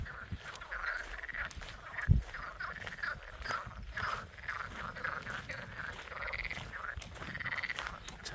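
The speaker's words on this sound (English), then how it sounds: "Turns out the frogs are early risers." Frogs croak steadily in the early morning in a constant, layered chorus of rhythmic calls, heard from a moderate distance and fairly faint, with no talking.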